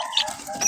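A single short cluck from a mestiza hen, a brief near call with a couple of quick chirpy notes and little else around it.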